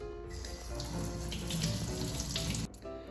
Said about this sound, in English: I'll give them a little rinse.